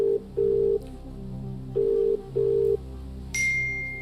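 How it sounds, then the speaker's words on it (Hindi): A telephone number is dialed on a TV quiz show set, giving a short series of sustained electronic beep tones with brief gaps, followed by a higher ringing tone as the call connects, clear and close with no talk. "विवेक मोदी जी को फोन लगाया जाए।"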